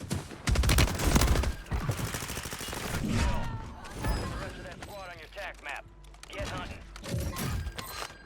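Rapid bursts of automatic gunfire from the Lachmann Sub in the Call of Duty: Warzone video game crackle loudly and repeatedly, with players talking over the shooting throughout.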